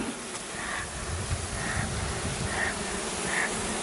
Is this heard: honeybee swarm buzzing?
yes